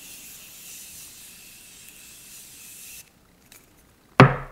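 A few seconds of steady hissing spray of makeup setting spray misted onto a face, close and continuous, stopping abruptly, followed by a brief quiet pause and then a sharp, loud rustle or clatter at the end.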